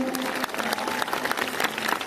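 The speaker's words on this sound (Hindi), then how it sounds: "पहले तो उनके लिए जोरदार तालियां बजाइए" An audience at a music gathering in Nathdwara claps heartily in a short, even burst of crowd applause heard alone at moderate volume.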